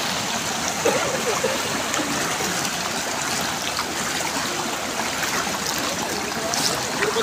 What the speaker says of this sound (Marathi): बघा आवाज येतोय का पाण्याचा? किती वाहतं पाणी आहे.